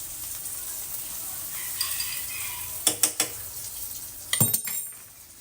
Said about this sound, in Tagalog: ilalagay ko na tong ating 3 pieces na egg, mga mahal ko, scrambled egg